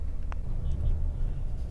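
A bus travels along the M2 motorway from Peshawar toward Faisalabad, its engine and road rumble a steady low drone heard from inside the cabin, with a brief faint click partway through.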